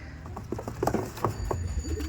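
Kaldom pigeons coo softly, several low throaty burbles repeating over a faint background of other bird chirps and ambient noise.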